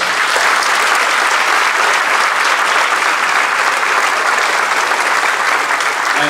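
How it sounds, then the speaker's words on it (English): A large crowd at a middle school moving-up ceremony applauds the staff members seated on stage, loud, dense, sustained clapping that stays even from start to finish. "Please give them a round of applause"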